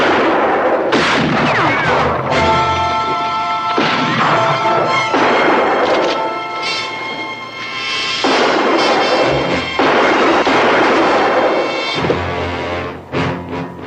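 Loud gunshots ring out in quick, irregular succession during a western shootout, close and sharp with echoing tails, dense throughout with no talk over them.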